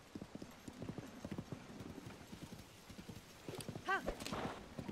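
A horse's hooves clip-clop in a quick, even rhythm in Zelda: Tears of the Kingdom, fairly close and moderately loud, before a brief whinny near the end.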